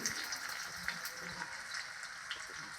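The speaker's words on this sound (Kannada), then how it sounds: "ಸಿಡಿತಾ ಇದೆ ಬೆಳ್ಳುಳ್ಳಿ ಆ್ಯಡ್ ಮಾಡ್ತಾ ಇದ್ದೀನಿ" Garlic spluttering in hot oil for a tempering, an even, faint crackling sizzle with scattered small pops and no talk over it.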